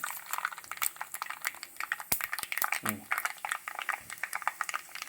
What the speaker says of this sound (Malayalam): രണ്ടും പൊട്ടിക്കൊണ്ടിരിക്കുകയാണ്